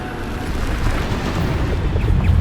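Bombarda explosion spell in Hogwarts Legacy, a dense continuous booming blast with rumbling low end sustained throughout, loud and without a break.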